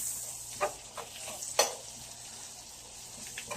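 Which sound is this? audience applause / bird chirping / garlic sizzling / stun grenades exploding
garlic sizzling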